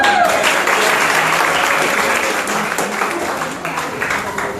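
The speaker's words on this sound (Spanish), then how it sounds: "Dense un fuerte aplauso." Strong crowd applause at a business event in Sincelejo, Colombia, sustained and loud, with a voice briefly audible at the start and the clapping easing slightly toward the end.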